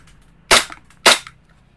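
Two sharp gas-blowback shots from an E&C 1102 Glock 17 Gen 5 airsoft pistol fired through a chronograph, loud and close, about half a second apart, each a crisp pop with a short tail.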